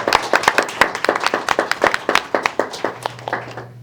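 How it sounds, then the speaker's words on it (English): Audience applause at a Board of Education public business meeting, a burst of many hands clapping that thins out and fades over a few seconds, ending in near silence with a low hum. "let's give our assistant principals a round of applause"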